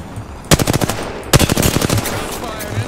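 Two loud bursts of rapid automatic gunfire in the video game Apex Legends, each a quick string of sharp shots, with a little game noise between them.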